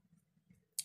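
A single quick snip of scissors cutting nylon beading thread, close and faint after a moment of quiet.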